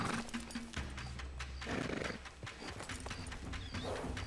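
Horse sounds from a mare in Red Dead Redemption 2, with a clear whinny and hoof clip-clop over a busy game soundscape with music-like tones, fairly loud and steady throughout.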